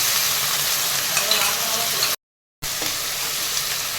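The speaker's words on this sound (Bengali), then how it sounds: "সসটা বানিয়ে রেখেছিলাম, এবার সসটা আমি ঢেলে দিচ্ছি।" Sauce poured into a pan of frying dry chilli chicken, a loud, close, steady hissing sizzle that breaks off into silence for half a second, then resumes just as strongly.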